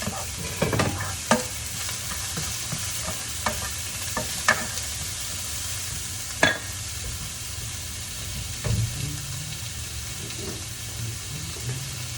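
Steady sizzling and crackling from vegetables frying in a pan, with occasional scraping stirs and clinks layered over the continuous hiss.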